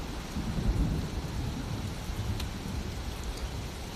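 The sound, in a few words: heavy rain with thunder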